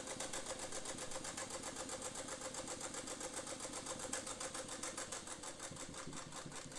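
A domestic sewing machine runs a short stitch at a moderate pace, giving a steady, rapid, rhythmic whirring chatter that stays continuous and fairly close throughout, with no talking.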